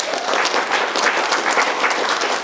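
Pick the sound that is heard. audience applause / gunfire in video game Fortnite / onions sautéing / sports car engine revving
audience applause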